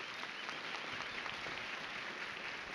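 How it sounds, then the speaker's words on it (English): An audience applauds at a women's leadership luncheon, producing a steady, continuous wash of clapping that sounds fairly distant and even throughout. "give a round of applause for these beautiful women"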